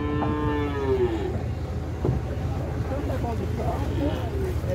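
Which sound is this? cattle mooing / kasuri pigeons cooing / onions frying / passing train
cattle mooing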